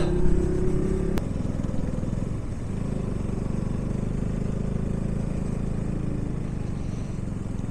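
A Bullet motorcycle riding on a mountain road in Gujarat during a group ride: steady low engine drone and road rumble throughout, fairly close, with a brief click near the start and no talk.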